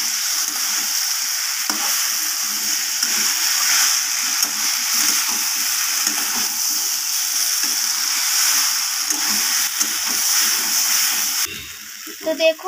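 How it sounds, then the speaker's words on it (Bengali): Lentils being sautéed in a pan with potato, taro and spices give a steady, close frying sizzle with soft stirring scrapes, and a brief louder clatter comes near the end. "এরপর আমি ডালটাকে ভালোভাবে আলু, গুঁড়ি কচু আর মশলাপাতির সাথে ভালোভাবে কষিয়ে নেব।"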